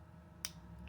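A single small sharp click from a PSA Dagger pistol's trigger resetting during a function check, close and quiet over a low room hum, with no talk.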